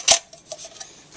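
A metal camp stove from a canteen kit is handled, giving one sharp clinking knock followed by a few lighter metallic taps, close by and with no voices.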